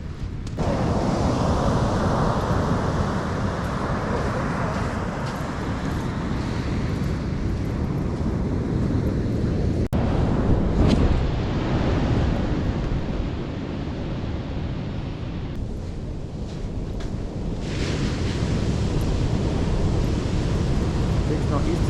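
Ocean waves and wind on the west coast beach at Haast, a continuous loud broadband surf roar with gusting wind noise, swelling and easing over time, no voices.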